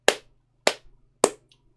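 Three sharp, isolated hand claps from a single person, evenly spaced about half a second apart, close and loud with silence between them.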